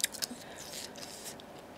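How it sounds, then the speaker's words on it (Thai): Close-up chewing on a fresh, spicy Thai shrimp salad with crunchy, chewy jumbo shrimp, heard as faint wet crunches and soft squishy bites with a couple of sharper clicks at the start. "กรุบกรุบเหนียวๆนิดนึงมันจะเคี้ยวยากหน่อยค่ะ"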